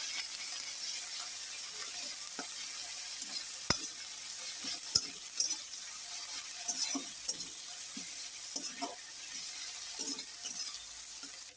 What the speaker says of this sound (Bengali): মশলাগুলো ভালো করে ভেজে নেব